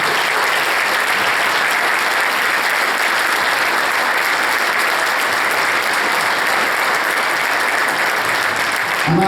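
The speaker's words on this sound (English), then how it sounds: "So stand up and have a round of applause." A school Christmas concert audience gives a loud, dense round of applause that holds steady for several seconds before stopping abruptly.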